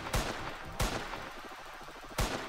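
Three sharp pistol shots in the video game Chicken Assassin, two close together and then one after a pause, crisp and fairly near over quiet game background.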